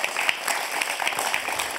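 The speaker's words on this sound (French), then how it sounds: "on peut applaudir aussi l'UNICEF pour tout ce qu'ils font" A studio audience at a French television quiz show applauds, a soft, steady patter of many hands heard at a distance.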